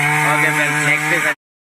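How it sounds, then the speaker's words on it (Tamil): A 7.5 hp motor pump with 2.5-inch delivery pipe runs with a steady, loud buzzing drone for about a second before cutting off abruptly. "மோட்டர் ஆன் பண்ணியாச்சு"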